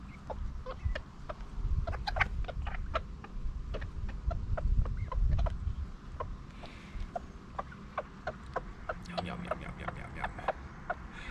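Chickens cluck and peck near at hand while eating a pile of leftover fishing maggots, short irregular clucks and sharp pecking taps over a low background rumble.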